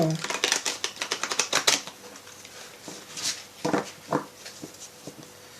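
Tarot cards are shuffled in quick riffling bursts, a close, crisp flutter of card edges at first, then sparser taps and shuffles as someone talks intermittently.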